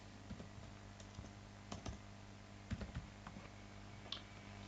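Faint, uneven keystrokes on a computer keyboard as a web address is typed, a short run of soft clicks with small pauses in a quiet room.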